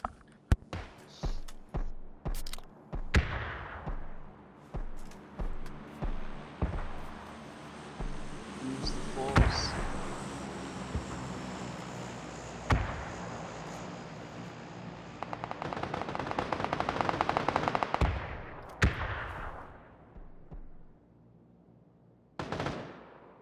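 Video game gunfire in bursts, rapid automatic shots and sharp single cracks spread across the stretch, fairly close and loud, with a long sustained rattle near the end and talk in between.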